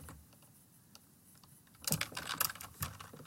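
Typing on a computer keyboard while writing a first Python program in IDLE, rapid irregular clicks starting faint and growing louder and busier partway through, alone without talk.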